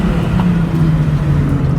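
Mitsubishi Evo engine held at a steady, loud droning rev while brake boosting, a constant low rumble with slight fluctuation and no speech.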